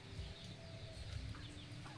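Chickens clucking on a farm amid dry, drought-hit fields, soft scattered clucks over a low steady background hum, faint and fairly distant.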